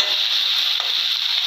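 Green chilies and ginger-garlic paste fry in a pan with chicken, a bright continuous sizzling hiss at steady loudness with no speech.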